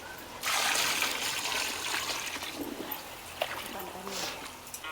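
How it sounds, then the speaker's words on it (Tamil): Water is poured into a large pot holding ten kilograms of chicken curry, a gushing, splashing pour that starts abruptly and runs on, with voices in the background. "இப்போ தேவையான அளவுக்கு நம்ம தண்ணி ஊற்றிக்க போகிறோம்."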